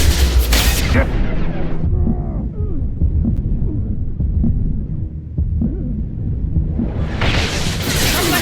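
Gunfire in Mass Effect 2, heavy thudding shots and low rumbling impacts in a muffled, throbbing mix, loud and sustained, with a brief brighter burst at the start and end.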